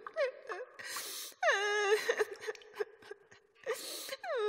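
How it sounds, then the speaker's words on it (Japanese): A child's crying in a narrated Pinocchio fairy tale, heard from inside a giant fish: wailing, sobbing cries with rising and falling moans and gasps, close and fairly loud, in several bursts. "すると子供の泣き声が聞こえてきます。"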